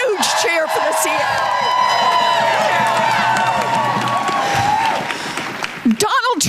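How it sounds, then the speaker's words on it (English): A large rally crowd in support of the CFPB cheers, whoops and claps continuously at close range, a dense roar that holds steady before thinning out near the end, with a voice calling out over it. "Let's give a huge cheer for the"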